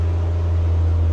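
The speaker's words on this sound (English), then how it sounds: "There are some smells and some noises coming from my bendy bus now" Bendy bus engine labouring up a hill, a loud steady low drone with a constant deep hum and broad mechanical rumble, heard close with no talk.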